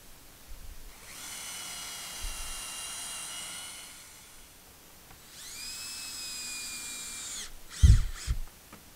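A power drill whines into wood in two sustained bursts with a pause between, followed by a couple of sharp knocks.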